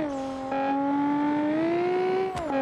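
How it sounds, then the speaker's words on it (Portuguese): A Nissan 370Z engine in BeamNG.drive revs up with a rising, harmonic whine that climbs steadily, then dips briefly before surging again; loud and close, no talking. "E o carro acelera rápido,"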